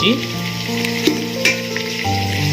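Onions and bay leaves frying in hot oil for a vegetable dum biryani, a loud, close, continuous sizzle with crackling spits and faint stirring, no talk.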